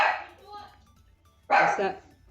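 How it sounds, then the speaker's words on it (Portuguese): A dog barks indoors in a short burst, loud and close, after a stretch of quieter background with faint voices. "que tem um cachorro aqui, ele não aguenta ver nada aí, quer sair lá"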